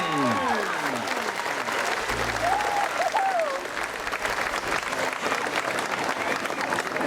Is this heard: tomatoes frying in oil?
no